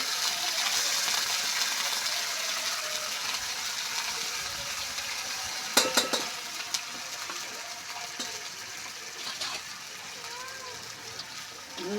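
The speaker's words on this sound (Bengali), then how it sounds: "পেঁয়াজ কুচি দিলাম, লাল লাল করে ভাজে নিব।" Chopped onion and tomato frying in a pan of oil for a Bengali fish curry, a steady close sizzle and hiss throughout with a few brief clatters of stirring partway through.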